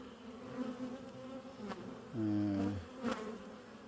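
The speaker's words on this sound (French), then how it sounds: "On voit qu'il y a des abeilles un peu multicolores." Honeybees from a hybrid colony buzzing around a hive in an apiary in late October, several insects droning close by with one loud, steady buzz passing near the ear midway.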